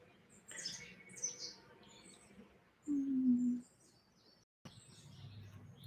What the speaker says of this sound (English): Oh, there's a cardinal behind us.